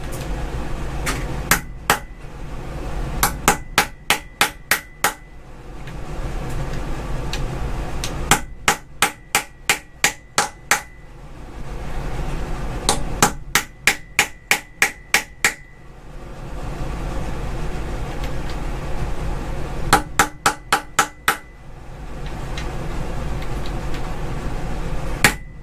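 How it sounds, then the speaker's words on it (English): Hammer blows driving an oversized Torx bit into a seized bolt during a Mark 1.8T engine teardown, sharp metallic strikes in rapid bursts of four to six, repeated with pauses, loud and close. "One size over, so we just hammer it in and then take it off."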